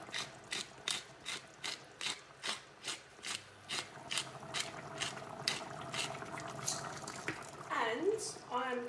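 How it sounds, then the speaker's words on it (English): A pepper mill grinds black pepper in a home kitchen while a white sauce is made, about a dozen evenly spaced ratcheting cranks close up, followed by softer rasping and scraping. "A crack of pepper"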